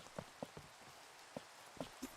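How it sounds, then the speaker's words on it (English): Rain falling in the Minecraft video game, a quiet steady patter with a handful of distinct drop-like taps spaced irregularly over a soft background hiss. "And then we can say goodbye to the rain."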